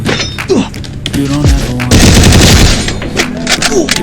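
Rapid UMP gunfire in the shooting game Free Fire, loud close bursts of automatic fire with a sustained volley in the middle, while a player talks.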